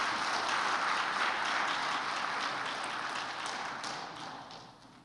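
Audience at a Korean university faculty gathering clapping in a steady, dense patter that fades toward the end, fairly faint and without talk over it.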